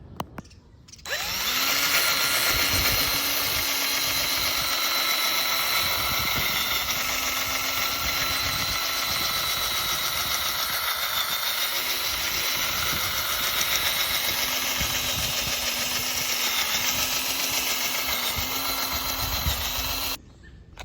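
A power tool fitted with an abrasive pad sands a yellowed car headlight, a steady loud whirring drone running almost without break for about twenty seconds before cutting off.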